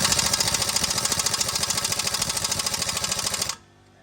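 A power ratchet or impact-style socket wrench on a bolt under a 2nd-generation Dodge Ram 1500 rattles in a steady rapid hammering burst for about three and a half seconds, loud and close, then stops abruptly.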